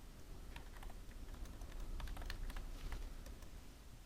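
Quiet clicks on a computer keyboard as a command is entered, a scattered run of light keystrokes over a soft constant background hiss, with no one talking.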